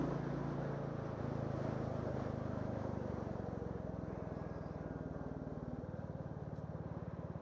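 Royal Enfield Classic 350 single-cylinder motorcycle engine running while riding, a steady low rumble with rhythmic pulsing throughout, close and continuous, with broad wind noise on top.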